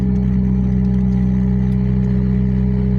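A supercharged 2004 Ford Focus RS engine hums steadily at idle, with a constant low drone and faint metallic rattling from stiff motor mounts layered over it.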